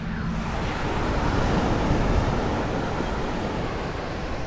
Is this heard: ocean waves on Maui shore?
yes